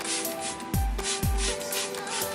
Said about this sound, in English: So I'm just gonna spray it everywhere